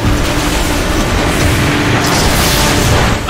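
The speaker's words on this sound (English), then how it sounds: "The Decepticon warp cannon!" A heavy, sustained roar of a Decepticon warp cannon blast in Transformers: Fall of Cybertron, a dense rumbling barrage that stays loud and steady throughout without a clear break.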